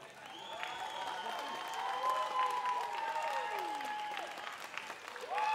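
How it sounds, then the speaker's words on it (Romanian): An audience at a summer-camp folk concert in Brezoi applauds the Moldovan performers: steady, fairly loud clapping from the crowd, mixed with sustained whoops and shouted cheers, swelling again at the end. "Păi hai să vedem atunci cum îi aplaudăm pe moldovenii voștri."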